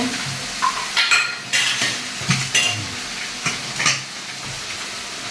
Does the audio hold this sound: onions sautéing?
yes